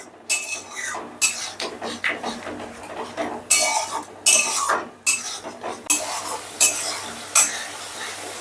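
A spoon scrapes and clinks against a pan while a spiced masala with yogurt is stirred and sautéed, the bright metallic scrapes coming in an irregular, fairly loud rhythm over a soft background hiss.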